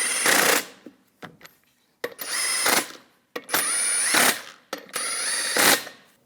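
A power tool snugs down wheel lug nuts on a Chevrolet Colorado during a front brake job, giving four loud whirring, rattling bursts separated by short pauses and metallic clicks, close up with no talk.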